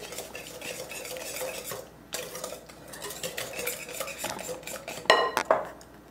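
A sugar and vanilla extract mixture stirred in a bowl, with continuous scraping and clinking of a utensil against the dish and a few louder knocks near the end, no talking.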